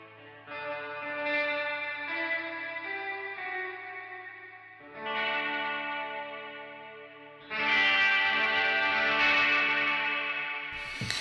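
Clean electric guitar chords played through a Mariana reverb pedal on its spring setting ring out with a washy, splashy reverb tail, three strummed phrases in turn, each louder than the last, no voices.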